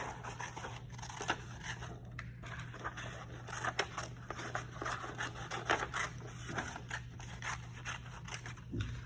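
Scissors cut big pieces out of paper for an animal landscape craft, a quiet, close series of irregular crisp snips and rustles with no speech.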